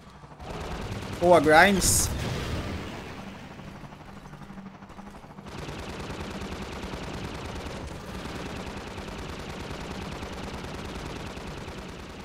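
Rapid bursts of gunfire in the video game Half-Life 2, a loud rattling volley early on followed by a steady stream of game noise, with a person talking briefly over it.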